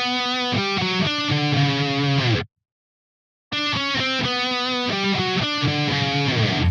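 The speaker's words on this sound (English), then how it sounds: "However, this intro was played by a bass." The bass intro of a song is played with a distorted, effects-heavy tone as a phrase of repeated notes and chords. It cuts to a second of silence, then the phrase plays again, loud and without talk.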